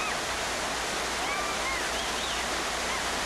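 Rushing whitewater of tight, technical rapids in a narrow canyon on the Katun River in Siberia, a steady dense roar with no break in it, and a few faint whistles or bird calls above.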